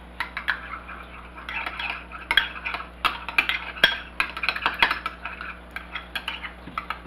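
A utensil stirring onion powder and ketchup into a sauce in a bowl: a steady run of light scraping clinks against the dish, close and fairly quiet, with no voices.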